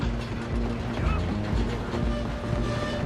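A train runs on rails in the Red Dead Redemption 2 video game, a dense, continuous low rumble with rhythmic clatter and faint metallic squeals.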